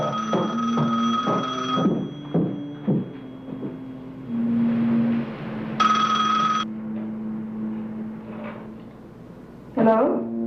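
A telephone rings indoors at home in repeated short bursts, first in a quick series, then a few isolated later rings. Voices and room noise mix in between the rings.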